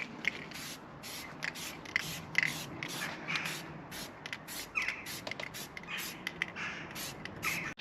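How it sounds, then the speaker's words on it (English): Repeated short hissing bursts of a spray gun painting a car bonnet, pulsing on and off in a steady rhythm at close range. "So I'm going to spray the bonnet and see how that goes."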